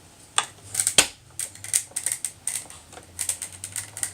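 A series of small crisp pops and clicks crackle close by as an embossing folder runs through a die-cut machine, irregular and quick, with a faint low mechanical hum underneath.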